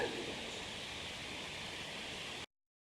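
Continuous soft rushing of water in a forest feeder stream in Shenandoah National Park, steady and faint, ending in sudden silence.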